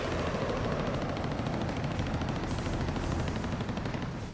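Sustained machine-gun fire from MiG-17 jets strafing ground troops, a dense rattling roar layered with engine noise, steady and fairly faint throughout with no speech.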